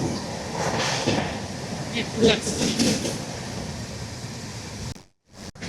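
Padatik Express speeding through Masagram Junction at 130 km/h, a dense steady roar of wheels and rushing air heard from inside, with a brief loud burst midway before a sudden near-silent gap at the end.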